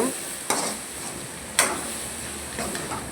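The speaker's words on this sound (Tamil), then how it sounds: "மிளகாத்தூள் போட்டு நல்லா கலக்கிட்டே இருங்க" Cabbage and egg with chili powder being stirred in a pan, a soft sizzle under two distinct spatula scrapes and knocks against the metal, with lighter stirring toward the end.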